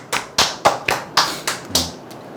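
Several separate hand claps in an uneven rhythm, about seven sharp close strikes over a couple of seconds, with no voices. They follow a call to applaud a celebrity's birthday donation to single mothers and elderly people living alone.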